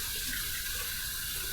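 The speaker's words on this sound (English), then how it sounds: "We're going to heat this up under some hot water" Hot water runs steadily from a tap over a shaving brush, a close, continuous hiss and splash with no voices.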